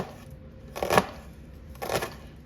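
A knife chopping a small shallot on a cutting board, two distinct close chopping strokes about a second apart against a quiet room background.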